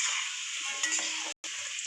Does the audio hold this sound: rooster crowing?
no